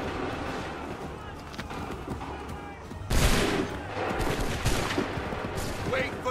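A volley of muskets cracks out at once in Assassin's Creed III, with scattered follow-up shots over battlefield ambience, while voices shout orders.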